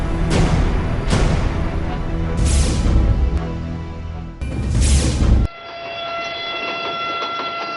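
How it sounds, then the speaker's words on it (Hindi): A Pakistan Railways train rumbles loudly past with clattering wheels, then a long horn blast blares, followed by a lingering tonal hum as it moves on. "रेलवे पाकिस्तान में सफर का सस्ता तरीन जरिया, यही पाकिस्तान रेलवे है।"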